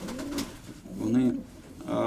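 A pigeon coos close by, one soft rounded coo rising in the middle of the clip, with a voice talking around it.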